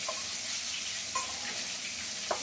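Fish frying in hot oil in a pan while cooking a silver carp dish, a steady broadband sizzle with a couple of brief louder pops, close and continuous with no talking.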